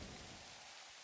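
Steady in-game rainfall in Satisfactory makes a dense, even hiss that is constant and fairly faint, with no voices.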